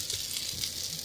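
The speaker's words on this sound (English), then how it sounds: "breakfast sausage that I'm frying up real quick" Small breakfast sausages sizzle in a pan inside a converted ambulance RV, a steady close crackling hiss with no talk.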